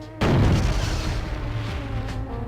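A gunshot in the video game Killer7 hits loud and close at once, then a booming, rumbling tail lingers under game music for about two seconds.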